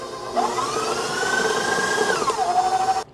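Electric mixer beating cheesecake batter, a continuous whirring motor whose pitch rises as it speeds up, holds, then drops back down before cutting off.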